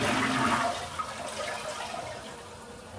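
A toilet flushing up close, a loud rushing gush of water that swirls and then tapers off into a quieter trickle as the bowl refills.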